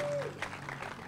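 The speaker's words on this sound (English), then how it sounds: "Give them a big round of applause." An audience applauds young athletes at a Stockton University boat naming ceremony, a short burst of clapping with a faint tone sounding over it.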